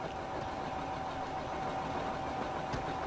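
A tractor engine idles steadily in Farming Simulator 2015, a constant mid-pitched hum that holds at an even level throughout with no talking.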